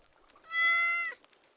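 A single cat meow in the game Stardew Valley, a clear tonal cry lasting about half a second, moderately loud and close, with faint game sounds around it.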